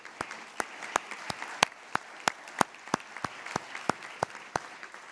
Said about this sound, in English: Let's give a round of applause to all of them.